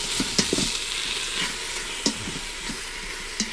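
Beef stew browning in a pot gives a steady low sizzle and hiss, broken by a few short clinks and scrapes of stirring, with no talking.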